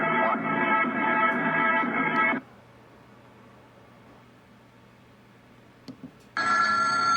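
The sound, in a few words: telephone ringing in recording played on Victrola stereo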